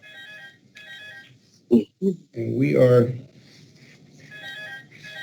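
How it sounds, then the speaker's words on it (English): A phone rings during a city council meeting call, its repeating electronic tone pattern sounding in bursts before and after someone talks over it. "I've got a phone ringing"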